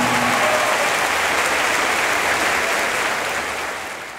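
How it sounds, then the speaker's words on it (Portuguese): A crowd in Belém claps at a religious gathering as the image of Our Lady of Nazaré is brought to the stage. The applause is full and sustained, then fades in its final second. "Vamos aplaudir nossa mãe!"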